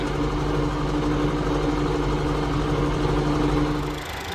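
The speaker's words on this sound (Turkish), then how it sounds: "Tam 1500'e düşürüp gaz verdiğinizde biraz değişik bir uğultu var böyle can sıkıcı." A tractor's steady engine drone at 1500 rpm with a persistent tonal gearbox whine hums continuously at a constant pitch, then drops off abruptly near the end; no voices.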